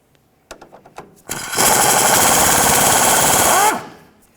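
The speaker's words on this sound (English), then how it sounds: "We're going to remove this 10mm headed bolt." A close, loud impact gun rattles steadily for about two seconds as it backs out a 10mm headed bolt holding the brake hose to the control arm on a 1999-2007 Chevy Silverado. Brief taps and clicks come before it, and it stops abruptly.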